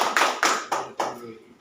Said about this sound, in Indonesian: Tepuk tangan dulu buat kelompok 4 ya.